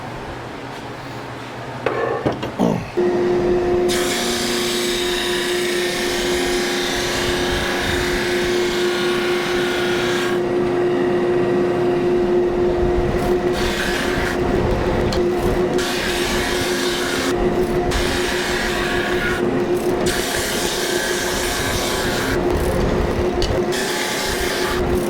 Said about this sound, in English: now I need to run these through the drum sander to get them smaller